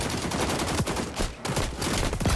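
Rapid assault rifle bursts in the shooter game xDefiant, a loud dense rattle of shots with short pauses between volleys.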